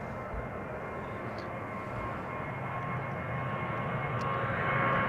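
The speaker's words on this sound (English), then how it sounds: "This is Ryanair off to Dublin." A Ryanair airliner departs Amsterdam Schiphol for Dublin with a steady, broad jet roar that swells slightly toward the end, heard from a distance.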